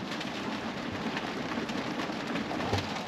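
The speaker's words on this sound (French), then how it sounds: "et puis il pleut des cordes." Heavy rain pours onto a camper van parked in the countryside, making a dense, even hiss of drumming drops that stays close and constant throughout, with no voices heard.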